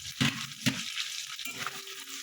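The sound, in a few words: onion and chopped potato frying in a pan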